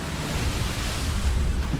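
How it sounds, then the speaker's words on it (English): A fast boat speeding through open water at sea, with steady loud rushing water and wind noise across the whole stretch. "This thing hauls ass. Dude, it just cuts right through the water."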